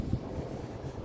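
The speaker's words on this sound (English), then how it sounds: "The weather keep on it's quite windy here." Wind buffets an outdoor microphone in low, rumbling gusts, with one brief thump near the start and a steady rough roar after.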